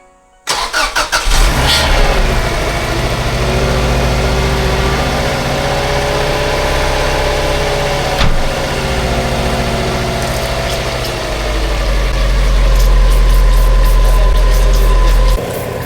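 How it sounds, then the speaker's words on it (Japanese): A Subaru Impreza GC8 engine cranks and catches, then settles into a steady, loud idle that rises slightly near the end, after a power steering pump swap. "じゃあエンジンかけていきます。"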